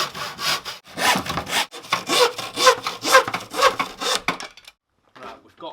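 Wooden pieces for an RC truck build being hand-sawn, a close steady rhythm of about a dozen rasping strokes, then a short pause and a few faint scrapes.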